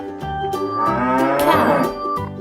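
A cow gives one long, loud, close moo that rises and swells in the middle before tapering off, heard alone.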